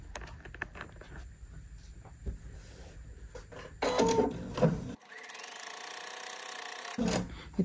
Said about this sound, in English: So we're going to do some quick sewing over here.